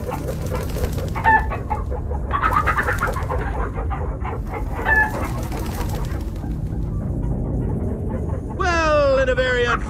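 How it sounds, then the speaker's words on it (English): Giant chickens in the Minecraft Story Mode video game cluck and squawk in short bursts over steady game background sound, with a louder rising call near the end. "it appears we are in the land of chickens that are indeed the size of zombies."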